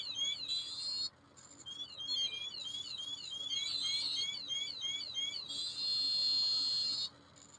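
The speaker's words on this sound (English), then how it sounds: "You mean that noise, don't you? The alarm noise." A Radiacode radiation detector alarm sounds as rapid, high-pitched warbling chirps, repeating in continuous bursts for about seven seconds, loud and close with a brief pause near the start.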